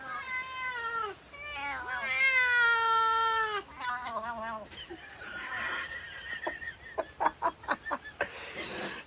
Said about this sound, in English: These freaking cats.